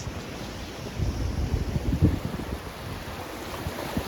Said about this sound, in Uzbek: Ochiq dengiz.